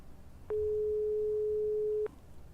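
An unanswered phone call in Broken Sword 5 gives a single steady electronic tone, clear and alone, lasting about a second and a half before cutting off.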